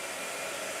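A blow dryer runs at full power with a steady, loud, even whoosh and no other sound during this short stretch.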